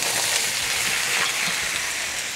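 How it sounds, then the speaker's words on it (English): Ribs searing in a pan with melting sugar for sticky ribs, a steady, close, loud hiss and crackle of frying with no pauses. "we're just gonna sear this up until we get a lot of color on our ribs"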